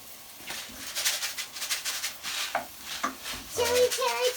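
Rice being stirred into a sizzling paella pan, with scraping and stirring strokes over a steady frying hiss, and a voice briefly heard near the end.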